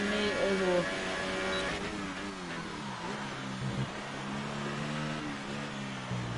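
A Formula 1 car accelerates with DRS open at the Mexico circuit, its engine whining steadily and climbing in pitch, while a commentator talks over it throughout.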